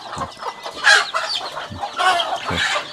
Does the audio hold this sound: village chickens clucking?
yes